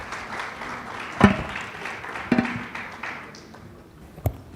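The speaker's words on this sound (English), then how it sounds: "Maybe you can join me in applauding them." A conference audience at a Cape Town business panel on ports gives brief, sparse applause for the panelists, a few scattered loud claps over a quiet room murmur, fading out quickly.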